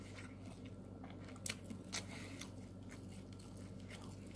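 Chicken eaten with red Makassar-style fried rice, bitten and chewed close up, with a couple of soft crunchy bites standing out over a steady low background hum.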